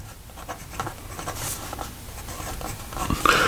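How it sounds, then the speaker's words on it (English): A Retro 51 Tornado P-51 Mustang rollerball pen writes a sample on paper, producing soft, close scratching strokes in short irregular bursts. "So here we go with the writing sample for the"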